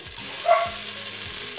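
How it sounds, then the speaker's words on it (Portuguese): Chunks of bacon frying in a drizzle of olive oil in a home kitchen pan, giving a steady soft sizzle with a brief brighter crackle near the middle, heard close with no talking. "um fiozinho de azeite para o bacon fritando"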